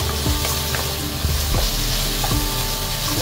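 Chicken and broccoli stir fry sizzles loudly and steadily in a hot pan, a dense crackling hiss with occasional sharper pops and tosses, close up and without any voices.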